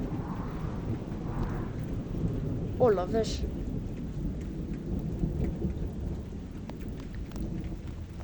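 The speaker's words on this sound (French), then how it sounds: "faites vraiment attention aux orages" Thunderstorm with steady rain hissing throughout and a rumble of thunder, plus a brief exclamation from a man partway through.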